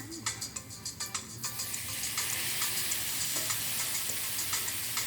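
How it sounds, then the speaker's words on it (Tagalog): Mung beans sauté in hot oil with a moderate sizzle, while quick metal-spoon taps and stirring clinks come close and rhythmic at first, then settle into a steady fry. "Ginisa ko muna yan dyan guys, para makuha ko yung mantika."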